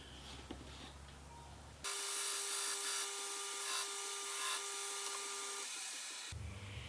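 Hand filing of a wooden clamp block for a homemade toggle clamp made from a paint can locking ring, a steady close rasp of several seconds, loud and uninterrupted, with no talk.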